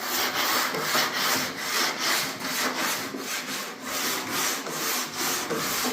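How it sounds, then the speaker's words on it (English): Steady rhythmic rasping of a sander block sanding a car body back and forth, continuous and fairly close, no voices. "we gotta make sure he keeps that sander straight"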